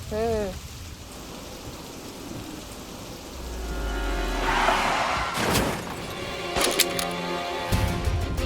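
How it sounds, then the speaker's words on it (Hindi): Steady rain hisses throughout, with a low rumble and a couple of sharp knocks partway through. "बारिश।"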